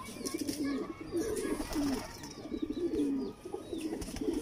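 A female Kasuri pigeon coos close to the microphone in repeated soft, low, throaty rolls over a few seconds, with faint chirps from other birds in the background.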